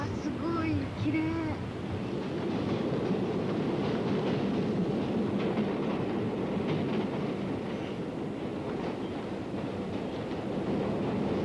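A subway train rumbles and clatters steadily through an abandoned Brooklyn subway station, a continuous loud roar with clickety-clack under some voices.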